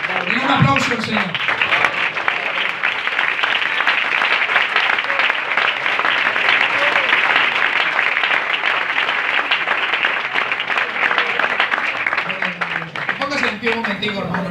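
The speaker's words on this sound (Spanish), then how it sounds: "Y un aplauso al Señor." Church congregation bursts into sustained, dense applause that fills the space at steady loudness, with a preacher's voice briefly heard at the start and again near the end.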